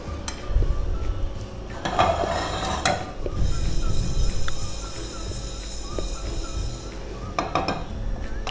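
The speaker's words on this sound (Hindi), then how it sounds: "इसको मुसलसल चलाते हुए भून लें" Whole spices dry-roasting over medium heat in a pan, stirred nonstop, give a close, steady scraping and rustling with sharp clinks of the spoon against the metal, and no one speaking.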